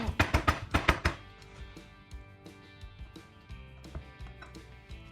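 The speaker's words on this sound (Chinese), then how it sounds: "虾肉切丁，剁成末。" Kitchen knife mincing diced shrimp meat on a cutting board, a quick burst of sharp chops at first, then slower, scattered taps that continue close up.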